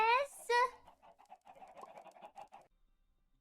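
Chickens in a video game make two loud crowing squawks up front, then a fast run of close clucking that stops abruptly.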